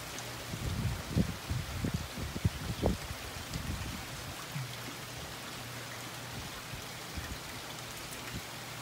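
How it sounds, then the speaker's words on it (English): Light rain falls steadily in a storm that is easing, with soft scattered drops and a few louder patters early on over a constant low wash. "Getting a little bit more rain."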